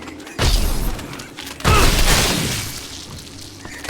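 Small time bombs exploding in the video game Shadow Warrior 2: two heavy booming blasts, the second louder and rolling off over a couple of seconds.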